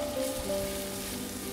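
Minced shallots and garlic sizzle and fry in hot oil while being stir-fried for a dried-shrimp dipping sauce, a steady close hiss with no talking.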